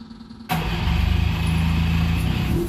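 A car engine catches and fires up after a fuel problem: quiet low rumble, then an abrupt start and a loud steady running drone, close by with no talk.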